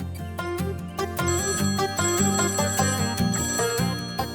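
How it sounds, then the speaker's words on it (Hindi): A phone ringtone plays a bright repeating electronic melody, loud and continuous, with no voices. "फोन बज रहा है।"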